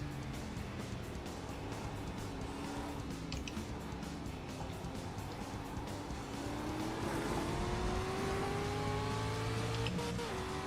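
A racing truck engine in the iRacing video game drones steadily and loudly, its pitch climbing as it accelerates, with other car engines mixed in throughout.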